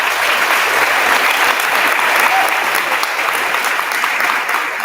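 Dense, steady applause from a school crowd at a fifth grade elementary promotion ceremony, loud and continuous throughout with no break or talk over it.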